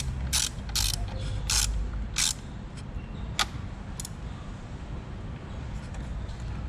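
A ratchet tightens a fitting on a power wire during a Tesla Model X electric frunk install, giving several quick bursts of clicking near the start and then isolated clicks over a low background hum.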